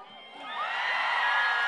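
An excited audience at a spring festival cheers and whoops for a female rapper's fire performance, the shouting swelling from moderate to loud and sustained over a couple of seconds.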